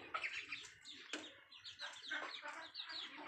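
Hens cluck while chicks peep in a steady stream of high, rapid chirps, close and continuous, with no talking.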